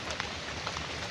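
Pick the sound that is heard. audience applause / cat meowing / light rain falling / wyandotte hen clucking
light rain falling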